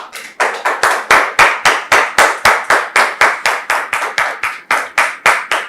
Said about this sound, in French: Nous recevons le pasteur sous vos applaudissements